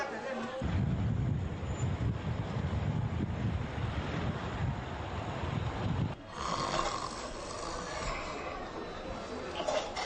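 Strong wind blows outdoors at night, buffeting the microphone with a steady, loud rumbling roar. It dips briefly partway through, then continues.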